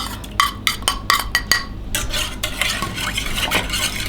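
A spoon stirs a pot of soup made with water, salt, broth powder and ground garlic: a run of sharp, rhythmic scrapes and clinks against the pot, then continuous sloshing and clattering, loud and close.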